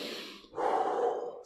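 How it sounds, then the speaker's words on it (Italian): A person doing a core-strengthening workout breathes in steadily through the nose and then exhales louder and longer through the mouth, close to the mic with no other sound. "inspiro col naso e espiro con la bocca"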